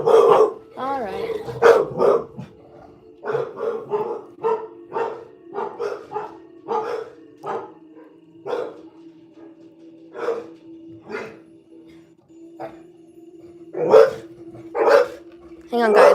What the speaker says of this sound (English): Let me go see what the dogs want.